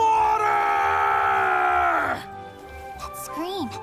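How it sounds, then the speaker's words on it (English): A game character in Monster Hunter Stories 3 lets out a loud, sustained strained scream lasting about two seconds, followed by quieter game tones and a short rising cry. "That scream."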